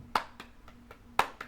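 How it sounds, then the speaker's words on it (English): Hands clap flat for a wrestling cheer in sharp, close, single claps: two loud strikes with softer ones between them in an uneven rhythm over a faint hum. "where you'd want to be clapping like this"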